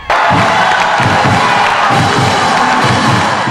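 Schoolmates at Mid-Pacific Institute in Manoa cheer and shout loudly at the entrance, a continuous roar of young voices celebrating a Little League World Series center fielder arriving by car.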